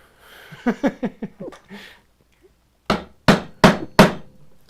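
Wooden dovetail cut with a chisel: a quick series of lighter taps, a pause, then four loud, sharp mallet strikes close by, evenly spaced, with faint breathing at the start.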